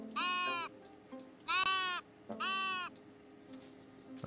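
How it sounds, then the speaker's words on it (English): A sheep bleats three times in the Tiny Glade video game, loud and close, each cry wavering, with short pauses between them over a faint background hum. "Oh, there's our sheep, or one of the sheep."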